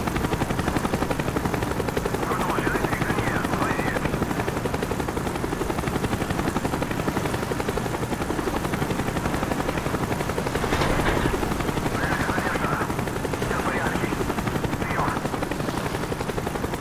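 A helicopter hovers nearby in the Call of Duty Black Ops video game, a steady, loud rotor thrum filling the scene throughout, with a few faint sharp bursts like distant gunfire over it.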